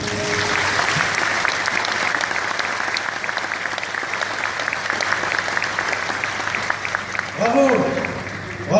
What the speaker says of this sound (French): Peut-être les applaudir.